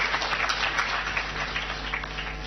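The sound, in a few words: audience clapping for members of parliament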